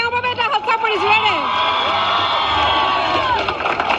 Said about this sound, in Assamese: পুনৰবাৰ এওঁৰ বাবে এটা হাত চাপৰি জোৰেৰে।